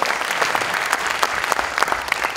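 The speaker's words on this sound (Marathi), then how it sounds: "जोरदार टाळ्या आपण वाजवूया." An audience at an entrepreneurship talk breaks into loud, sustained applause, dense clapping from many hands filling the room without pause.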